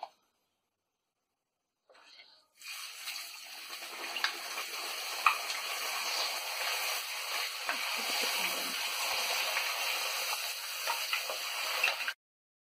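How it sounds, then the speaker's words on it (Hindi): Potato slices for chips frying in hot oil, a dense, steady hiss and crackle that starts abruptly after near silence and sizzles evenly at close range before stopping. "इसी तरह से बाकी आलू को भी फ्राई करेंगे"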